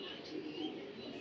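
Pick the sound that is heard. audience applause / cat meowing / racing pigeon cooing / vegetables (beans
racing pigeon cooing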